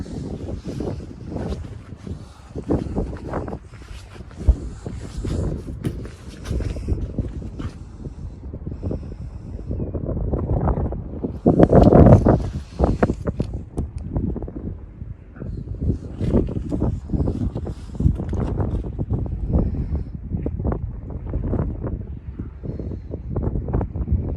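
Strong gusty wind buffets the microphone on a seaside fishing pier, a continuous rumbling roar that swells and eases in uneven gusts throughout, with no talking.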